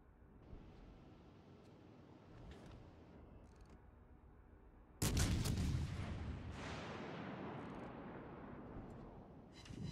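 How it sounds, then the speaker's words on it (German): Naval artillery firing at the battleship Großer Kurfürst in World of Warships Legends, with a single loud sudden boom midway that rolls into a long decaying rumble over a low engine-like background. "Ich würde fast sagen, dass wir versuchen, den großen Kurfürst hier zu beschießen."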